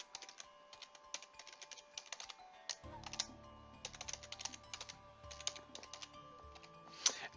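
Someone types an email address on a computer keyboard: close, irregular clicking keystrokes that come in quick runs with short pauses, plus a few louder key presses.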